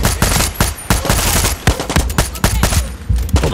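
Gunfire in the shooter video game Far Cry 6 crackles in rapid, loud bursts of overlapping shots, close up and almost continuous, with brief gaps between volleys.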